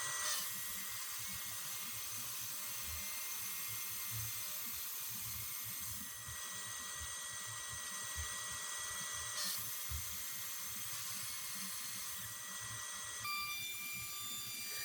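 A power tool, likely a router, cuts a 1/8 inch roundover and 1/4 inch chamfer edge profile on a large wooden outdoor dining table, giving a steady, continuous high whine close by for the whole stretch, with no talk.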